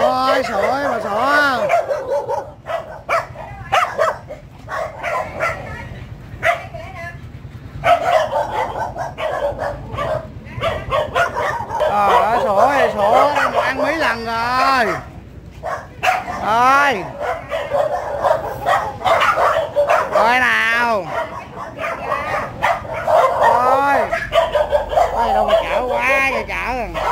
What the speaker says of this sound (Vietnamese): tôi đem đồ ăn tới cho ăn mà sủa tôi hoài.